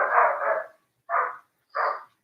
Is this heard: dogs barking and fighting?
yes